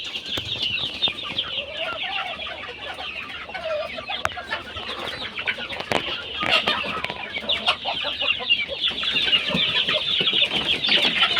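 Native chickens and roosters, some of them white, cluck and call almost without a break on a small poultry farm, a busy layered chatter from several birds that grows slightly louder toward the end.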